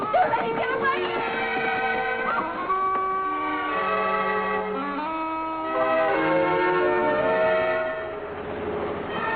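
A passenger train runs on rails in an old television sitcom, with sustained tonal horn-like sound and rumbling over steady running noise, continuous throughout.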